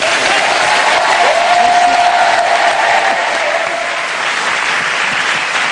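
Sustained, dense applause from a theatre audience, loud and steady throughout with a faint voice briefly showing over it.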